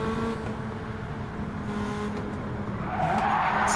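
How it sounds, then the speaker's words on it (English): A Group B rally car in Gran Turismo 7 on the Trial Mountain circuit, engine roaring steadily with tyre noise, and a louder, brighter skid surge near the end, with no talk. "Got a good eye on our Cullen in the Pescia RC Set Group B rally car"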